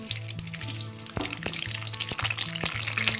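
Cauliflower pieces frying in hot oil in a kadhai for restaurant-style aloo gobi, a steady dense crackle close by with sharp bursts and clinks, growing busier and louder toward the end, no talking.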